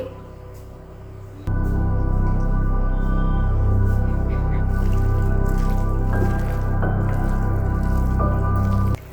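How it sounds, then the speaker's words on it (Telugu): A whole lemon is squeezed into a pot of mutton biryani, producing a wet squishing and dripping of juice up close over a constant loud background hiss. "ఇప్పుడు లెమన్ ఒక ఫుల్ లెమన్ పడుతుంది"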